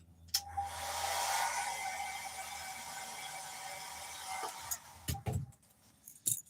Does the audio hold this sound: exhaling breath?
no